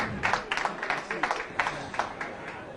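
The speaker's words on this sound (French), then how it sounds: "je vous demanderai tous d'applaudir en sa mémoire, Pierrick Rouxel" An audience at a horse-racing awards ceremony claps in tribute to a deceased count, a faint, rhythmic patter of applause sustained under the room's background.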